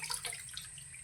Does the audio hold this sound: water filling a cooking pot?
yes